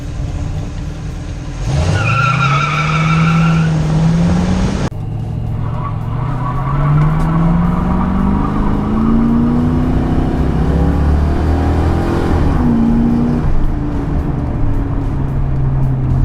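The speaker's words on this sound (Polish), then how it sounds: "Zamielić oponami przy ruszaniu, zmienić z jedynki na dwójkę z piskiem." A Mercury Cougar revs hard as its tires spin and squeal at launch, the engine note climbing steadily before a shift, loud and close with continuous tire screech throughout.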